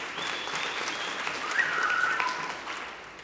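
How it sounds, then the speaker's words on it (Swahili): An audience claps steadily at a celebration, a dense wash of applause that swells a little toward the middle and holds without pause, with no clear voices. "Mjipigie makofi."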